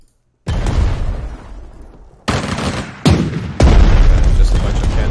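Naval cannons in the Pacific war strategy game Strategic Mind: The Pacific, fired in separate loud booming bursts, each starting abruptly and rumbling on before the next salvo, with the volume rising over the sequence.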